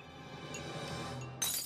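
Glass clinks with a sudden bright crash near the end, following a quiet, low background hum.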